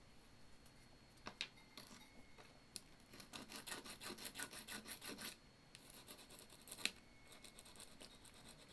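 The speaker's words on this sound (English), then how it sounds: "we're going to take a sanding stick" Repeated rasping strokes of a cheap beauty-section sanding stick flattening a plastic Zoids model kit part, in bursts of close, scratchy back-and-forth rubbing with short pauses.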